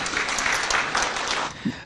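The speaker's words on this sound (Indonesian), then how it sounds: "Boleh tepuk tangan untuk Bu Fahira." Audience clapping for a newly installed Parmusi women's leader at a political gathering, a loud, dense burst of applause that carries steadily before tapering slightly near the end.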